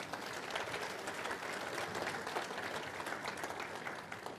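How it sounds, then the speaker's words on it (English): Audience at a scam-awareness talk for retired people applauds the panelists, including Richard Spalding and Wes Duncan, with steady, dense clapping that holds evenly for several seconds. "let's give them a round of applause coming up"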